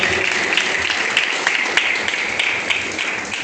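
Church congregation applause, a dense patter of many hands clapping at once, steady and fairly loud for a few seconds.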